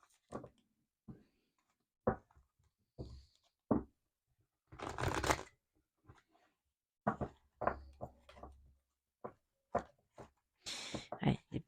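Playing cards riffled and shuffled in several short, crisp bursts, with a longer louder shuffle near the middle and others toward the end, close and alone with quiet gaps between them.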